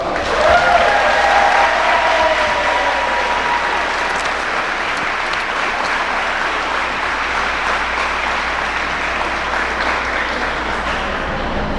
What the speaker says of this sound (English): Let's give a huge round of applause for the Sayreville Athletic Hall of Fame class of